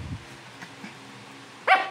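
A pet dog named Sky gives one short, sharp bark close by near the end, after a stretch of quiet room noise and faint low murmurs.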